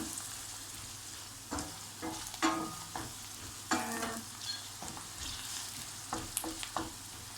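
Onions being sautéed in a pan for an ebe gümeci (mallow) dish, with a steady low sizzle broken by repeated scraping stir strokes at close range, no talking.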